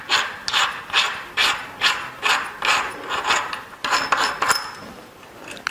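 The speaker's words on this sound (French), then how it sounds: "on desserre les écrous ici" Wrench loosening the nuts on an electric bike's front fork, a series of repeated ratcheting clicks in rhythmic strokes, close and loud, with no talking.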